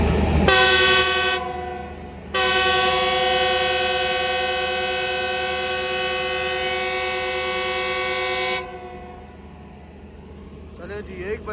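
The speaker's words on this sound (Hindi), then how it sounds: "हमारी ट्रेन ने फर्स्ट डिपार्टिंग विसल ले लिया है खानेवाल जंक्शन से निकलने के लिए" A Green Line train blows its departure whistle at Khanewal Junction, a loud sustained harmonic horn blast in two parts, a short toot then a long held tone of about six seconds, with station bustle around it.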